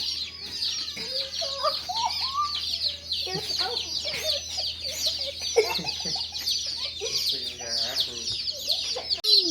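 Many small chicks peep constantly in high, shrill chirps, close by and overlapping, with occasional voices and clucking mixed in, in a brooder.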